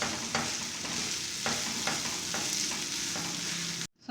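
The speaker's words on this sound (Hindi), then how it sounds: "अब इसके अंदर आलू डालेंगे मैश किए हुए, इसको अच्छी तरह मिक्स करेंगे।" A spatula stirs mashed potato and lightly cooked capsicum in a pan, scraping in a steady rhythm of distinct strokes over a constant close sizzle, with no talking.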